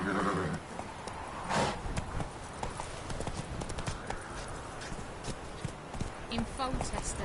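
A horse gallops in The Witcher 3 game with repeated hoof clip-clops and a whinny near the start, under a busy game soundtrack and ambient effects.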